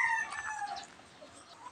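A hen new to brooding clucks near her nest, a short close burst of high fowl calls that fades into quiet background noise.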